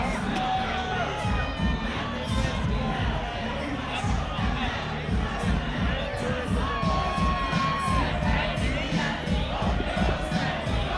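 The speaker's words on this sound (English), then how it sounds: "you can hear the energy from the crowd" A boxing fight-night crowd roars and cheers during a fighter's walkout, loud, dense shouting and whooping with music and voices mixed in throughout.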